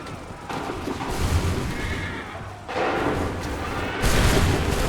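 Volleys of cannon and musket fire in Assassin's Creed III, booming in bursts with heavy thuds and crackling gunfire that swell and fall in waves, at a moderate distance.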